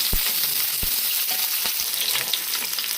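Onions, green chillies and garlic fry in a hot pan with a steady, loud sizzle throughout, broken by a few sharp stirring knocks of a spoon against the metal.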